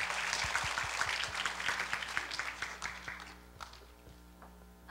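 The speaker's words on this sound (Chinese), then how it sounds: "请掌声鼓励。" Applause from an audience at a university lecture series in a hall, a dense spread of clapping that stays fairly loud for about three seconds, then thins out into scattered claps and a few taps before going quiet.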